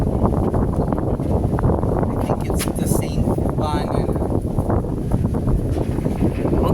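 Steady wind blowing at Bulabog Beach in Boracay, a loud continuous buffeting rush across the microphone with gusty swells throughout, broad roar filling the whole stretch.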